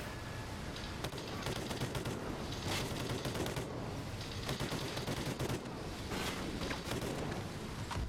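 Sustained assault rifle fire in Call of Duty: Ghosts, bursts of gunshots crackling over a dense backdrop of battlefield noise and wind-like rumble, with shots clustering in rapid runs throughout.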